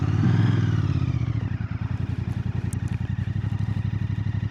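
A 2025 Royal Enfield Bear 650 rides slowly, its engine giving a close, steady low thumping pulse with a light mechanical clatter throughout.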